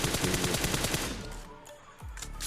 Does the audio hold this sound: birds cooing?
no